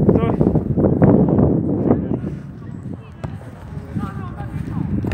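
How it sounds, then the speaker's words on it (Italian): Wind buffets the microphone beside a youth football pitch on a cool evening, a steady rough broadband rush with gusty swells, loud and close throughout. "un po' di vento e freschetto."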